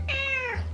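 A pet cat named Gracie in a home kitchen gives a single clear, drawn-out meow, close and fairly loud, over a low steady background hum.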